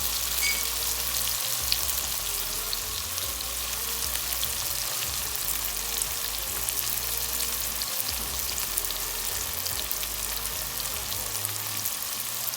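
Scallion and seasonings fry in a pan for liver steak, a steady close sizzle with crackling running evenly for the whole stretch, with no talking.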